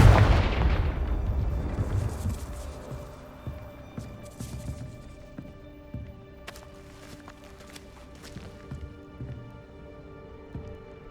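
A Confringo blasting spell in Hogwarts Legacy gameplay goes off as a heavy booming explosion at the start, followed by a decaying rumble and scattered small pops and clatters of debris.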